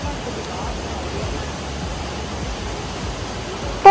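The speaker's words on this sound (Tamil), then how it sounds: "போகிற வழியிலேயே இந்த மாதிரி அருவி கொட்டிட்டு இருந்தது." Steady broadband rush of a small waterfall pouring between mountain walls in the Aareschlucht gorge, Switzerland, a constant even roar with no talk, ending in a brief louder burst.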